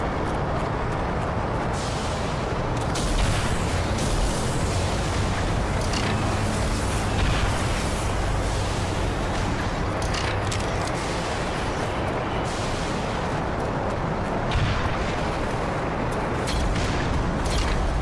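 Missile launcher shots and explosions in the Black Mesa video game, a dense, loud and continuous roar of blasts and rumbling with no clear gaps.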